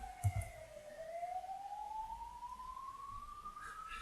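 A rising electronic siren tone in the video game Dungeon Crawl Stone Soup sweeps steadily upward and holds for several seconds, fairly quiet, with a brief low thump near the start.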